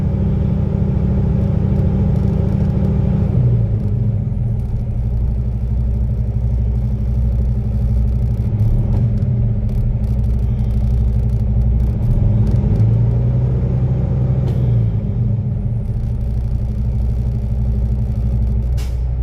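A truck engine revs to charge the air brake system, a loud, steady low rumble that swells and eases slightly across the clip with no talking.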